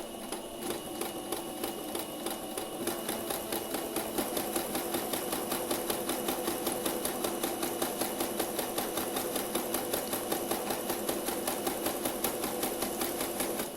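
A sewing machine runs a slow practice stitching exercise, its needle chattering in a steady, even rhythm close by for the whole stretch, with no voices.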